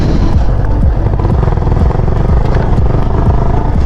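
A Yamaha R15 sport motorcycle exhaust rumbles loudly and up close, the engine revving in repeated rising pulls with a raspy, continuous drone and no voices.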